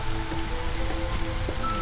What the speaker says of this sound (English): Just entered the drizzle.